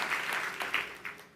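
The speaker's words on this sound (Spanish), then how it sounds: "denle un fuerte aplauso al Señor" A church congregation claps in a short burst, the applause steady and fairly close, swelling in a few brief peaks.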